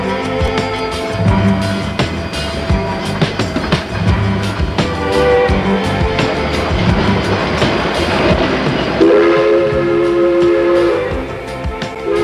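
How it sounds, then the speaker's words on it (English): A Silverton steam train whistle blows two sustained blasts over the chugging, rumbling clatter of the train starting to move, fairly loud and close. "The engineer gives 2 blasts of the whistle. Eases the throttle open."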